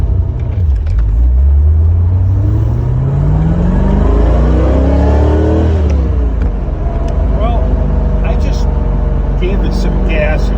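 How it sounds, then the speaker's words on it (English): A Citroën C4 engine revs up on a test drive, loud and close with rising and falling pitch sweeps over a steady drone, then settling into a smoother cruise. "Gave it some gas at first, as you can see, and it did not sputter."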